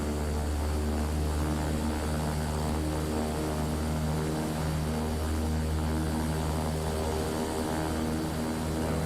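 Twin propellers of a simulated King Air 350 in X-Plane 12 drone steadily with a beating, out-of-sync pulsing hum, loud and continuous with no voices.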